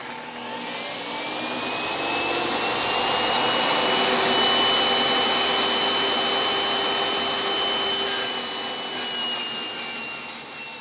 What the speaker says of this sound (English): I've got my panel over on the table saw and my sled. We're going to go ahead and cut the bottom out.